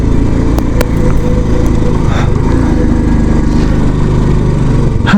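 A vehicle engine straining uphill in first or second gear on a mountain pass road near Singe La, running loud and steady with a rough buzzing drone and occasional rattles from the frame.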